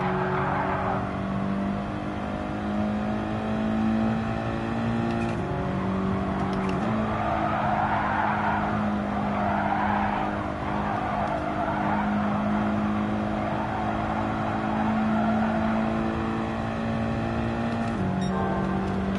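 A race car in the Gran Turismo 7 video game holds a steady high engine drone with repeated shifts in pitch, tires squealing and skidding over it in stretches, loud and continuous.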